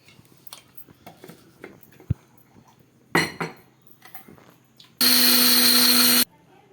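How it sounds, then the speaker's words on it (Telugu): A kitchen mixer grinder powders nutmeg and mace for betel nut powder, roaring loud and steady for just over a second after scattered clinks and knocks of utensils. "ఇవి మొత్తం అన్నీ మిక్సీలో వేసి పౌడర్ చేయాలి."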